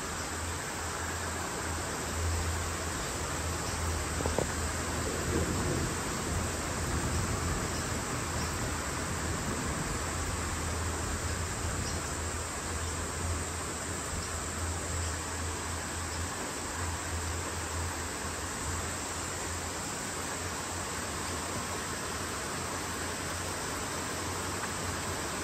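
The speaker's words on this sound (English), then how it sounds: "The rain has just commenced." Rain begins during a storm in Brisbane as a steady, dense hiss of falling water that holds evenly throughout, with a faint low hum underneath.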